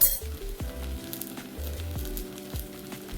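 Spice powder fries in a pan of oil for a prawn fry, a close steady sizzle with occasional clinks of a utensil against the pan.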